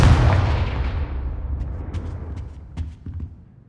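A Confringo fire spell bursts in Hogwarts Legacy, a loud booming explosion that rolls and slowly decays, followed by a few faint scattered crackles and pops as it fades.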